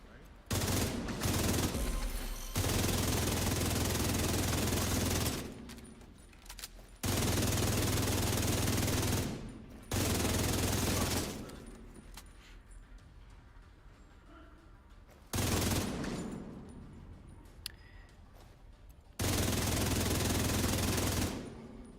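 Bursts of video game gunfire and explosions come in heavy, loud blocks of a few seconds each, separated by quieter stretches.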